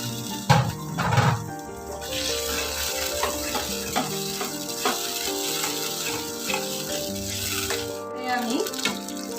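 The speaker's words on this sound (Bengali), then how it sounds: "মশলার পাত্রটাই ধুয়ে একটু জল দিয়ে দিচ্ছি।" Water from a rinsed spice bowl is poured into a cooking pan of vegetarian Bengali egg curry with cashew paste, a short splashing pour near the start over ongoing background music, with no one speaking.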